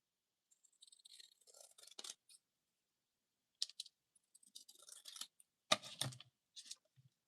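Scissors trim paper for an art journal in short bursts of close, crisp snipping and rustling, separated by silent gaps, with a louder cut near the end.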